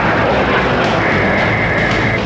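A Mirage 2000 fighter jet roars loud and steady through an aerobatic solo display, a dense broadband engine rush with a rising whine layered in, heard alone without talk.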